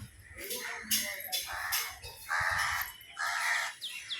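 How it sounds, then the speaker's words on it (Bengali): Crows caw outdoors on a breezy day, several harsh, evenly spaced calls repeating in a loose rhythm at moderate distance, with some faint background voice mixed in. "কাকগুলো খা খা খা খা করছে"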